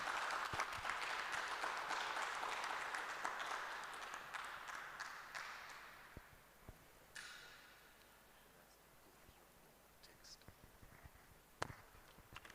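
Congregation applause at Christ the King, Cantonments, starting as a dense clatter of many hands, then fading out around midway into a quiet hall with a few stray claps, shuffles and faint murmurs.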